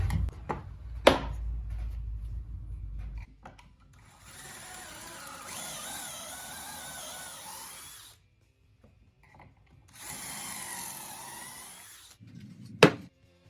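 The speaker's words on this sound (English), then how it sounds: "let's put some pocket holes in the front and back panels" Pocket holes being drilled into plywood front and back panels for a kitchen island build from 2x4s and plywood: a sharp knock, a low rumble, then two steady whining drill bursts of about four and two seconds, ending with a sharp clack.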